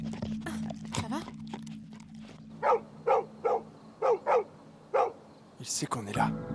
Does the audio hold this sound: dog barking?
yes